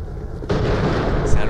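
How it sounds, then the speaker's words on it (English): A big grenade blows up in the shooter game Borderlands The Pre-Sequel, a sudden broadband blast that lands mid-clip and rolls on in a dense, sustained rumble under faint voices. "Grosse grenade."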